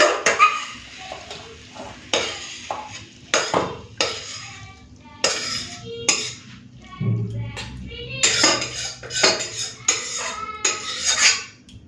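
Cooked fish-oil chochchori is scraped and poured from a pan into a dish, with repeated loud metal spoon scrapes and clanks against cookware in irregular bursts, alongside intermittent talking.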